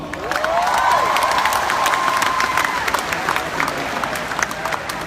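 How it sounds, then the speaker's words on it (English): A large crowd at a business partners' event applauds and cheers, a loud sustained mass of clapping with whoops, shouting and a high whistle rising over it. "So please give all yourselves a round of applause"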